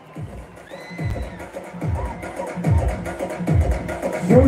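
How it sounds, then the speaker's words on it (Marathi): Crowd at a Dahi Handi festival cheering and shouting for a girl atop a seven-tier human pyramid, loud mixed voices with rhythmic thumping beats and a rising roar, a whistle-like tone briefly over the noise. "या चिमुरडीसाठी एकदा टाळ्या वाजवा"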